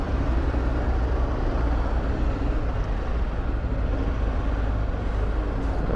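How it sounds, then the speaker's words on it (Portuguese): Heavy stop-and-go traffic jam on a city road with cars, buses and trucks, a steady broadband rumble of idling and creeping engines filling the whole stretch, with a brief high hiss like an air brake near the start. "Pra onde você for, tá engarrafado."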